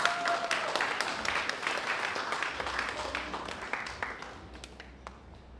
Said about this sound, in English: let's give a massive round of applause.